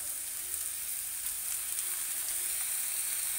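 Pieces of chicken fry with onions in a kadai for Malabar-style kadai chicken. A steady, close hiss of sizzling oil with fine crackles runs throughout, with no voices.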